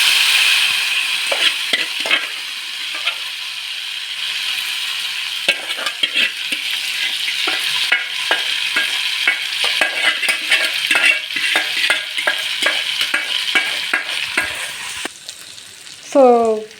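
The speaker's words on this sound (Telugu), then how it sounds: "ఫస్ట్ స్టవ్ మీద కడాయి పెట్టుకున్నాము. సో తర్వాత రొయ్యలు వేసుకుంటున్నాము." Prawns sizzle steadily in a hot kadai on a stove while a spoon scrapes and clinks against the pan in irregular stirring strokes, close up; a short bright ringing clatter comes near the end.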